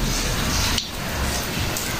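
Rain falling outdoors in Saudi Arabia, a steady hiss of drizzle close to the microphone that dips briefly partway through, with no talking.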